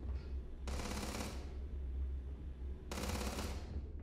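Bursts of automatic gunfire at a weapons shooting range in Starfield, two sustained volleys of rapid shots separated by a pause, loud and close over a steady low background hum.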